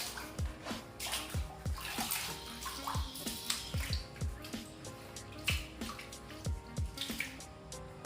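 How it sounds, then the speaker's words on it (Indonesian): An octopus is washed in water before cutting, with close splashing, sloshing and dripping that come in repeated bursts, with no talk. "Kita cuci dulu sebelum potong."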